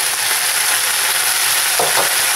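Pork and chorizo fry in a pan with a loud, dense, continuous sizzle and crackle, stirred once near the end, with no voices.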